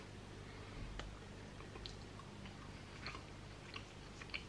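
Someone chews a Myprotein vitamin gummy, producing faint, soft, squishy mouth sounds with small wet clicks scattered over a few seconds, very close but quiet.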